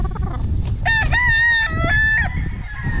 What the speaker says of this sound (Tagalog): Yan ang manok ng sagupaan.